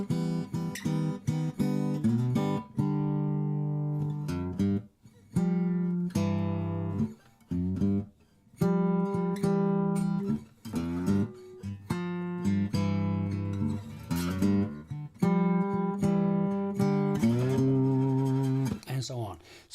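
Guitar in open tuning plays a blues turnaround, with plucked notes, slides and strummed chords in an uneven rhythm that carries on steadily and close up, with no talk over it.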